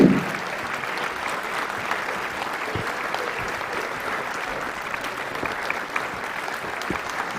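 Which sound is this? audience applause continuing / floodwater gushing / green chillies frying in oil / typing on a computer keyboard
audience applause continuing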